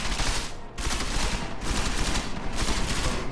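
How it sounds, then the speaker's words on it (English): Sustained bursts of automatic gunfire shooting up a place in Deus Ex Mankind Divided, three loud, dense volleys separated by brief gaps, with no talk. "They want me to shoot up the place. I shoot up the place."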